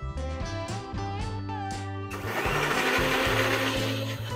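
A mixer grinder whirs with a steady motor hum, then surges into a louder, gritty grinding roar as a coconut spice paste with a little water churns continuously.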